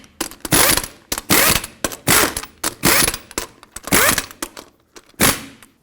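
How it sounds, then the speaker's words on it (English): Clicking ratchet bursts from a torque wrench tightening lug nuts on a Nissan Frontier wheel, about eight short ratcheting pulls in an uneven rhythm, close and fairly loud, with no talk. "torque them to 98 foot-pounds."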